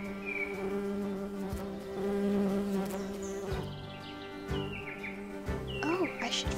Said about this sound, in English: Oh, I should follow the bee.